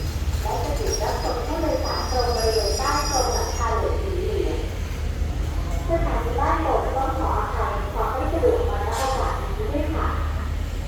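Thai express train No. 40 pulling into Ban Pong station, a steady low rumble of rolling railcars with faint wheel squeal, while a Thai announcer speaks over it throughout.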